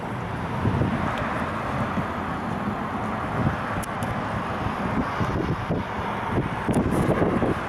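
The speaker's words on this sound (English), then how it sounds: "I fucking love the wind." Wind gusting steadily across an outdoor microphone beside a car with an oil leak from the breather filter, a continuous rough low rumble swelling in louder gusts, with no talk.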